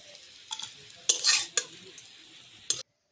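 Fritters (bora) sizzle in a pan of hot oil while a utensil scrapes and stirs them in a few loud bursts, with a quieter frying hiss between the strokes.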